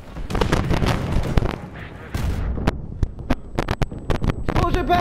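Sharp blasts and booming bangs from C4 explosives detonating in Garry's Mod, several in quick succession, loud and close, with speech mixed in underneath.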